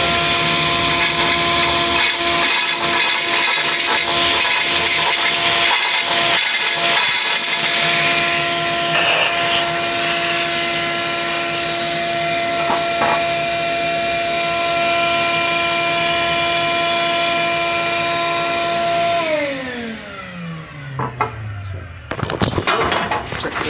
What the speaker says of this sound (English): Drill down over the vacuum.